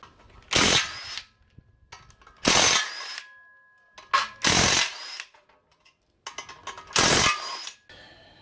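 Ratcheting tools work loose a drive plate on an engine stand, sounding as four long, loud rasping ratchet bursts with short pauses between them.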